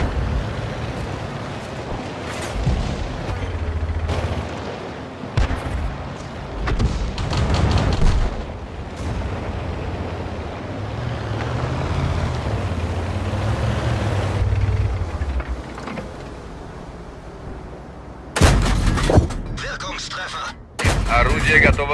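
A tank gun fires in the video game World of Tanks, with several sharp, booming shots and bursts of heavy fire scattered across a rumbling battle soundscape, the loudest blasts near the end, and a voice speaking in between.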